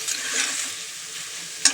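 Thickly cut vegetables fry in a pan with a close, hissing sizzle that stays steady through the short moment, ending in one sharp clink of a utensil.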